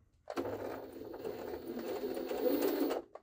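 A Jaguar SJ-23 sewing machine runs a straight stitch for about three seconds, a steady close whirring hum that starts and stops abruptly.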